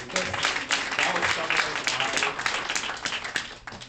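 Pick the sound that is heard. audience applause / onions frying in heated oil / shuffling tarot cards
audience applause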